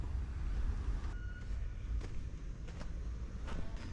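A wheel loader at a landfill works near a truck it is loading, its low diesel rumble steady throughout, with faint clanks and short sharp knocks over the engine drone.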